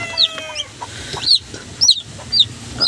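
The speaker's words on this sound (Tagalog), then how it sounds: "ito yung mga sisiyo mga bossing" Newly hatched pure JBK chicks peeping, with short high chirps repeating every half second or so, close and fairly loud with no talk.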